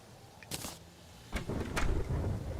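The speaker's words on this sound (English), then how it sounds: "Oh, it's a thunderstorm." A thunderstorm in the game Terraria: a few sharp, crackling bursts followed by a steadier low rumble and rushing rain noise, all fairly quiet.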